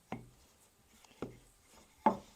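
Pie dough for a ricotta pie worked on a floured surface gives three soft, separate thumps about a second apart, each a short muffled knock, quiet and close.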